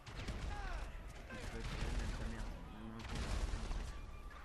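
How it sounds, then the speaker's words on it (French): Dense, continuous gunfire in the video game GTA V, sustained rattling shots over a loud busy game soundscape with no quiet gaps. "il va me tirer dessus. Il tire."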